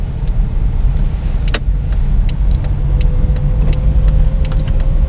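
Loud, steady engine and road hum from inside a car driving on a winter road in the Netherlands, with occasional small clicks and rattles and no speech.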